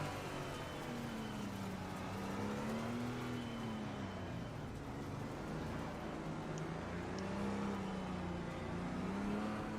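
Aston Martin race cars in a racing video game, a continuous loud engine drone whose pitch rises and falls smoothly with acceleration, steady throughout with no voices.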